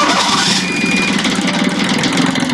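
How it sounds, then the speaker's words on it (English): A cold diesel engine on a Catalina 30 sailboat cranks after glowing and catches, settling into a steady, loud mechanical rumble with a faint high whine over it. "So let's go ahead and start the engine."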